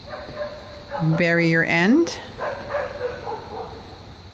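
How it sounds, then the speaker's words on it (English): Dogs bark and yip briefly in the background behind a voice giving instructions outdoors, with one short burst of barking rising over the talk. "I don't know if you can hear those dogs barking behind me."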